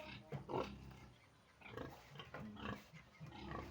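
Pigs grunting and snuffling on a pig farm in a few low, rough bursts at moderate distance, with faint background noise between them.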